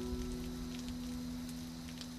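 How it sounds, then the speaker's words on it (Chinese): Steady rain and wind noise outdoors at night, a continuous low hiss with a constant hum underneath, fairly faint and with no voices. "大概是外面风雨声太大"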